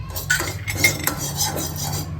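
Two spoonfuls of urad dal roast in ghee in a pan for upma, heard mostly as a spoon scraping and clinking against the metal pan over a soft low frying hiss, close and brief.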